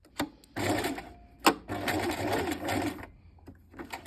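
Several short bursts of a domestic sewing machine stitching a seam on trousers, a close whirring chatter stopping and restarting between brief pauses.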